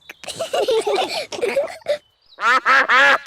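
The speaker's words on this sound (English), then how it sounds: "Oh, it's the ducks." Cartoon ducks quack at a picnic scene, a loud run of several nasal quacks following a stretch of spoken dialogue.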